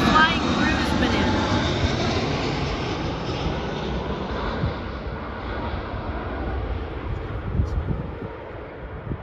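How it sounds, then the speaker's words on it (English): A Spirit Airlines jet airplane coming in to land gives a steady, broad engine roar mixed with wind noise on the microphone, and a person talks over it. "Yeah, let's see how bad Spirit's landing is."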